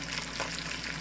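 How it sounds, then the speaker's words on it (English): Steady sizzling of salmon frying in its own juices and olive oil in a pan, a continuous crackly hiss with no voices. "it's sizzling in its own juices"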